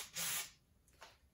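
Pressurised gas hissing from a beer keg during bottling, one short loud spray followed by a fainter second burst.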